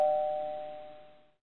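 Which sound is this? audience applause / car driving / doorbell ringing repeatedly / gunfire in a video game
doorbell ringing repeatedly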